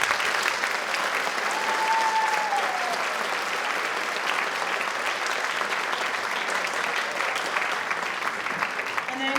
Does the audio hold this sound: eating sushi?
no